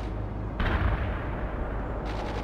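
Artillery and gunfire in the World in Conflict strategy game: a dense, loud barrage of booms and rattling shots, with a heavy blast near the half-second mark and a burst of sharper reports near the end.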